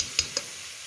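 Butter, onion and garlic sizzle in a pan with a constant faint hiss and two quick clicks or taps early on, with no voices.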